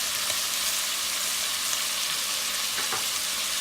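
Ground spices such as coriander and turmeric sizzle in hot oil in a pan while they are stirred for vegetable pulao, giving a steady, close, bright hiss with faint scraping, and no voices.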